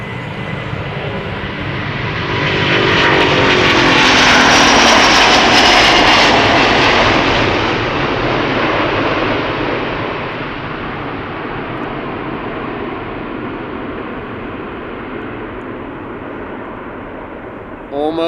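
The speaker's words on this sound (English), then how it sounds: "This is Delta Airlines flight 243 to Boston, Massachusetts, A330neo, 3 years old" A three-year-old Delta Air Lines Airbus A330neo takes off from Amsterdam Schiphol for Boston: a loud, close jet roar swells to a peak, then slowly fades into a long, steady rumble.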